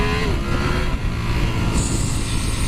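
Ducati Panigale V4 motorcycle engine running steadily at speed during a ride, a dense, loud continuous roar with wind noise, no talk over it.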